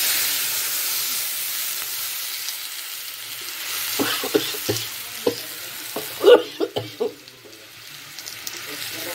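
Dried chillies hit hot oil in a pan with a soft, steady frying hiss, then a run of sharper crackles and pops as they sizzle close by.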